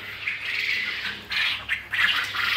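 Male quail birds penned together for sale, giving several harsh squawking bursts in quick succession, close and fairly loud, with no talk.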